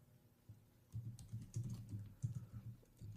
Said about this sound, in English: You hear me typing?